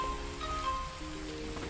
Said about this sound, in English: The nice sound of rain in VR